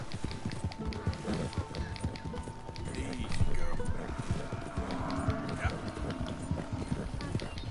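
A horse gallops in Red Dead Redemption 2, its rapid hoofbeats drumming steadily and close throughout while someone talks over them.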